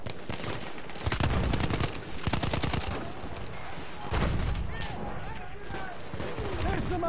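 Rapid bursts of rifle and machine-gun fire crackle through Battlefield 1 multiplayer gameplay on PS4, with sustained volleys and a heavy bang or two, while a player talks over the shooting.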